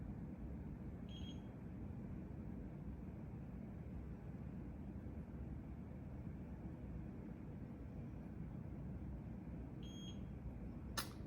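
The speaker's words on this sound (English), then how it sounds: "The beeps in the background are the tracker recognizing the AT controller." Two short electronic beeps from an eye tracker recognizing an assistive technology controller, several seconds apart, sound faintly over a steady low mechanical hum.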